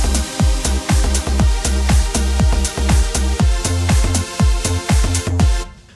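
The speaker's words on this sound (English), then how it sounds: "a very simple sort of 4x4 house beat that sounds like this" A steady four-on-the-floor house beat with a punchy kick on every beat, crisp hi-hats between, looping evenly and loudly before cutting off at the end.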